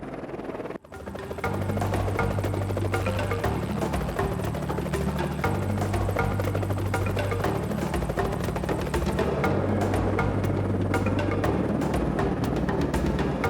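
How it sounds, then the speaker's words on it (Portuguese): A helicopter flies during a veterinary elephant-darting operation on a Kenyan conservancy, its rotor thumping in a steady, loud, continuous chop after a brief quiet moment at the start. "O helicóptero é o único modo de garantir um resultado fácil e rápido."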